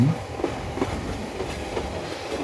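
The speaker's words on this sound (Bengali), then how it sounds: "একটা ট্রেন আসতেছে" A train in the game Train Simulator Bangladesh approaches Sitakunda station, rumbling steadily with rhythmic clickety-clack of wheels on rails, a continuous mechanical roar without voices.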